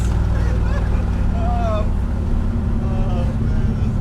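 A 1962 Dodge Dart with a 413 Max Wedge V8 pulls hard in first gear, its loud, dense, low rumble droning steadily throughout while voices talk over it.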